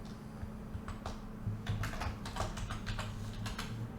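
Quiet, steady typing on a computer keyboard as a slide title is entered in PowerPoint, with irregular clusters of key clicks over a low background hum.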